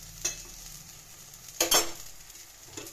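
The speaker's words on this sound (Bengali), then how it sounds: "আমি আবার একটু নাড়াচাড়া দিয়ে আবার ঢেকে দেবো।" Taro (mukhi kochu) frying in a pan is stirred with a utensil: a soft low sizzle with three brief scraping bursts, the loudest near the middle, close and quiet, no voices.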